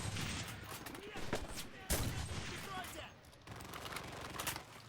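Rifle fire crackles in a video game, repeated sharp bursts and scattered shots over a busy battle background, with occasional voice in the mix.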